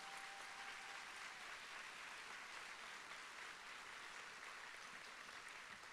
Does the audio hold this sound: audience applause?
yes